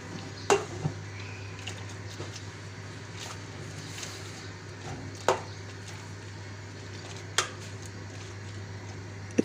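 Beef tadka meat is stirred in a pot over a high flame, with occasional metallic spoon clinks against the vessel over a steady low hum and quiet bubbling.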